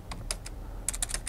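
Computer keyboard keys tapped while writing Java code, a short quiet burst of about eight crisp clicks in two clusters, close to the mic with no talking.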